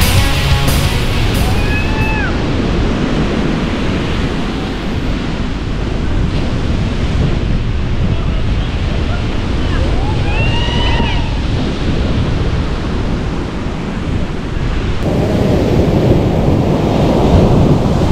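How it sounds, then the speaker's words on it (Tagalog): Big ocean waves during the northeast monsoon crash and roar continuously, loud and close, with heavy wind rumble over the microphone and brief faint bird calls. "Lalaki ng alon. Medyo mahirap maligo."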